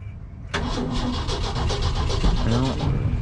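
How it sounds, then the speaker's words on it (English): Cabover truck engine cranks briefly and then catches, settling into a rough, uneven running rumble that continues to the end, with a voice heard over it. "let's get in here and try to see if it'll crank over"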